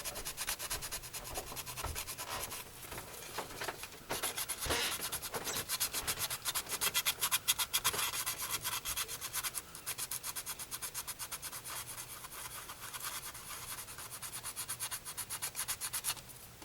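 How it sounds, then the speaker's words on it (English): Hand sanding on a car body during bodywork on a 1969 Camaro or 1971 Mustang, rapid rhythmic back-and-forth scraping strokes, close and loud, with a brief pause before continuing steadily. "sanding, you start with the coarsest grit you possibly can that will accomplish the task you need to do"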